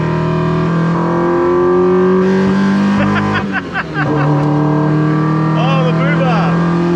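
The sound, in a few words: Honda Civic VTEC engine revving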